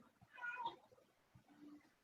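A cat gives a single soft, drawn-out meow, faint and close, followed by quiet low murmuring in a calm room.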